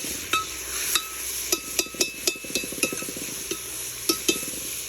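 Mutton and onions are stirred in a cooking pot with a spoon, giving repeated sharp scraping knocks against the metal over a soft sizzle, irregular and close.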